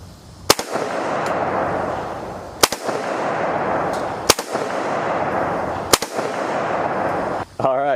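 A Ruger Mini 14 rifle fires four separate sharp shots at a steel silhouette, spaced one to two seconds apart, each crack followed by faint metallic rings from the steel target and a loud ringing tail over background noise.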